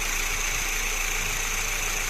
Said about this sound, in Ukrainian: Ось так от працює двигун на гарячу робить стійко